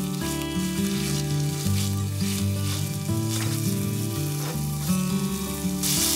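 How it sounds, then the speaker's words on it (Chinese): Minced meat sizzles steadily in an oiled wok as it is stir-fried, a dense close-up frying crackle with occasional stirring scrapes. "先放入肉末，稍微煸炒一下"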